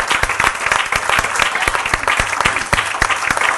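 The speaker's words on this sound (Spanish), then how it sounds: "Le damos un fuerte aplauso a nuestro Padre Celestial" Congregation at a Christian women's ministry church service claps loudly and continuously, a dense crowd applause with sharp individual claps standing out near the front.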